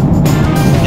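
A car driving up a coastal road on a clear day, heard from inside as a steady, loud low engine and road rumble with wind noise throughout, no talking.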